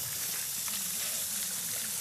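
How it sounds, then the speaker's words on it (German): Eggs beaten with cream fry briefly in butter in a pan, giving a soft, continuous sizzle and hiss at low volume, with no talking over it. "Ein bisschen Salz drauf machen, ein bisschen Pfeffer drauf machen und kurz anbraten jetzt."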